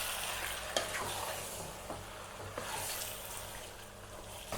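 Yogurt being stirred into chicken biryani masala in a pot, a soft wet sizzle with occasional scraping knocks of the spoon, quiet and steady.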